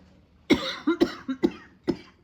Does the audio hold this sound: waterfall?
no